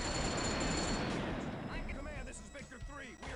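Dense, rapid gunfire and distant explosive thuds in the video game Delta Force: Black Hawk Down, a continuous loud barrage that thins slightly near the end as a voice shouts over it.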